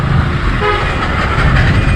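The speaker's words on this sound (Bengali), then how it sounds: "ট্রেন যাচ্ছে" Train passing by near Barahat on the way toward the Dhaka–Chittagong highway, a loud continuous rumble of rolling wagons heard close up for a brief moment, without talk.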